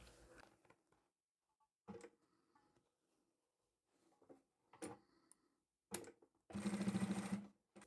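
A sewing machine top stitching crossbody bags runs in short separate bursts of quick mechanical ticking, with quiet gaps between them and a longer, louder run of stitching near the end, close by and without voices.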